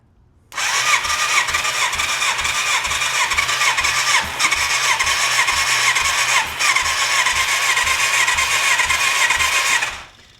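Yamaha FZ700 motorcycle engine with a starving fuel pump cranks and catches, running rough and loud with two brief stumbles where it hiccups before recovering, then cutting off after about ten seconds.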